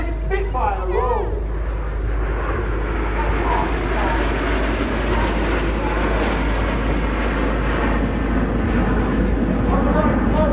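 A Spitfire flies over the Southport airshow, its propeller engine drone loud and continuous with a rising and falling pitch early on, while an announcer talks over it.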